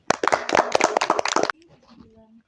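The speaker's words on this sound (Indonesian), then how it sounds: "beri tepuk tangan untuk kelompok sebelah kiri" A classroom group claps hands in a quick burst of dense, close claps that stops abruptly, followed by faint background sounds.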